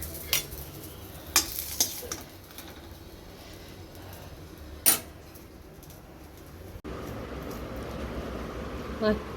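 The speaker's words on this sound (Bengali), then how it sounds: "এখানে তুলতুলে বাবার জন্য মাছটা ভাজা হচ্ছে" Fish fries in a pan in a home kitchen with a faint, low sizzle, punctuated by clinks of utensils and dishes, while someone talks at times.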